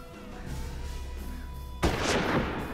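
A single gunshot in the western video game Hard West bursts in sharply after a low ambient hum, its crack followed by a lingering rumbling decay; no talking.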